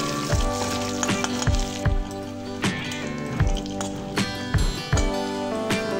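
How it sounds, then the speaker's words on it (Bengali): Bay leaf, whole garam masala and cumin seeds crackle in hot oil for a Bengali dudh potol dish, with steady close sizzling broken by sharp, repeated clinks and taps of a utensil against the pan. "তেজপাতা, গোটা গরম মশলা দিয়ে দিলাম, আর একটু দিলাম সাদা জিরে"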